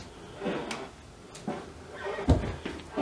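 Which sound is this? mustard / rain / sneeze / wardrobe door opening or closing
wardrobe door opening or closing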